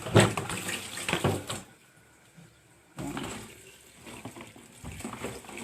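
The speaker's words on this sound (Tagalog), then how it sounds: "Hugasan ko muna itong sitaw. Kailangan palaging malinis ang lababo." Water runs from a kitchen sink tap while string beans are washed under it, in two loud splashing bursts separated by a quieter lull.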